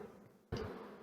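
Bees buzz around beehive frames during a hive inspection, a brief close burst of dense buzzing that jumps in loudness partway through and continues alone.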